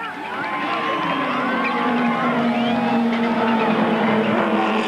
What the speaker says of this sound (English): the crowd's only interested in the battle of the big bangers, and they're going wild